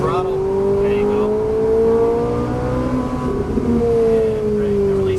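A Ferrari 458 Italia engine droning and rising in pitch as the car accelerates along a track, loud and continuous from inside the cabin, with a voice talking over it.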